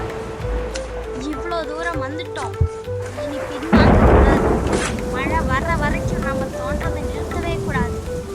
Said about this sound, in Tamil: திடீரென மழை வரத் தொடங்கியது அது மெல்ல பெருமழையாக மாறுகிறது